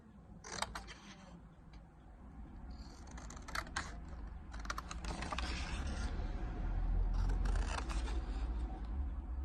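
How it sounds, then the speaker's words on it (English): Scissors cutting out a paper door plaque at close range, giving several bursts of crisp snipping and rustling over a low background hum. "And I'm just going to quickly cut that out."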